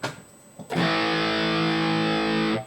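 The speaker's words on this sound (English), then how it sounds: "triple rectifier distortion" Electric guitar played through a Triple Rectifier distortion amp model on a Valeton GP200 or Mooer GE200 multi-effects unit: a single sustained, heavily saturated chord rings loud and steady for about two seconds, then cuts off.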